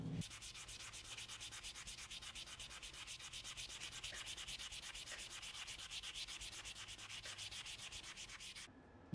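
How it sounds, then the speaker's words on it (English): Guitar frets are polished by hand with quick, rhythmic back-and-forth rubbing strokes. The soft, scratchy strokes repeat steadily for about nine seconds, close but faint, with no voices. "just go over all the frets and polish them up"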